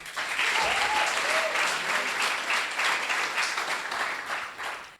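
Audience applause at a coding bootcamp demo day, a lively crowd clapping continuously with a couple of brief whistles, fading toward the end.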